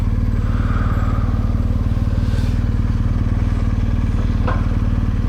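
A motorcycle engine drones loud and close while riding on roads through Bosnia and Serbia, an even, continuous buzzing hum with a faint clatter near the end and no talking.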